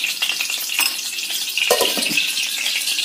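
Oil heats in a pan for taklyachi bhaji, a Maharashtrian monsoon wild-greens dish, giving off a steady, close, bright hiss with small crackles and a light clink of utensils partway through.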